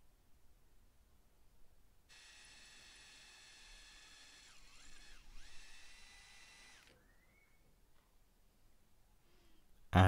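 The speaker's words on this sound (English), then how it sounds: "Now I wanted to drill two holes in each spoon, ready for some screws later on." A power drill whines steadily at high pitch while drilling holes in metal spoons, bogging slightly midway, then winds down and stops.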